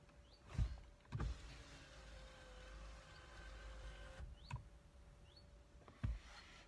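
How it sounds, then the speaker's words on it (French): An electric window on a car slides open with a steady motor whine lasting several seconds, bracketed by a few soft clicks and thumps inside the quiet cabin. "Je vais ouvrir un petit peu la fenêtre pour faire entrer de l'air."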